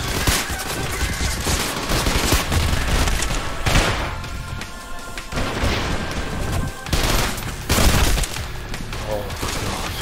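Dual-wielded guns blasting away in a chaotic video game, a loud, nearly unbroken barrage of overlapping shots and booms with someone talking excitedly over it.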